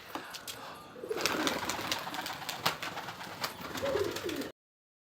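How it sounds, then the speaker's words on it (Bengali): Pigeons in a loft coo softly in low, rounded calls, mixed with scattered wing flutters and scratchy clicks. Everything sounds close but quiet, with no voices. "এই দেখুন, প্রচুর রাগী পায়রা।"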